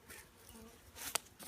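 Bees buzz faintly around a horizontal Langstroth hive outdoors, a soft intermittent hum with a brief sharp knock partway through.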